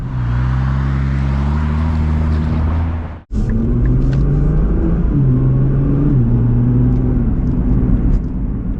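A 2020 Nissan GT-R's turbocharged engine pulls hard under acceleration from inside the car, loud and droning, with a brief cut at a gear change before the engine note climbs again.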